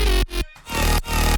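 Simple old-school dubstep bass is layered over melodic synths in loud, heavy bursts that are chopped by short silent gaps, sounding dense and close.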